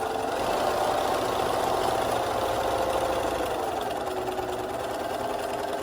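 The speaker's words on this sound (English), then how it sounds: "So forward and back for just a moment so that the stitch is secured." Sewing machine stitching forward and back to secure a French hem, a continuous close, steady motor hum with no pauses or voices.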